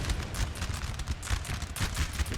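Troops fire muskets in the Napoleon Total War video game, a dense, continuous crackle of overlapping shots rolling steadily like a distant volley fire.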